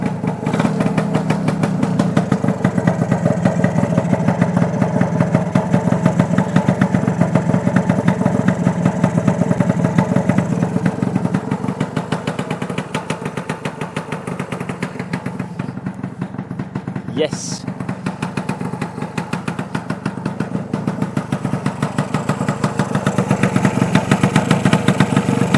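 A motorcycle engine ticks over at a steady idle, loud and close, with a beefy, even rumble that holds throughout with only slight variation.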